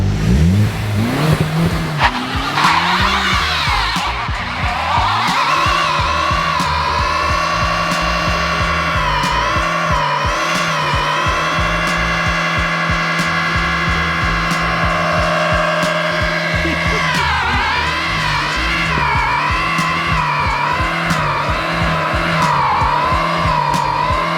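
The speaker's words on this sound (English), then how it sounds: "Second mandatory test on any manual swap, burnouts!" A manual-swapped Hyundai Genesis Coupe does a long burnout, its engine revving hard and holding high while the tires squeal steadily, loud and close throughout, with the pitch dipping and rising again partway through.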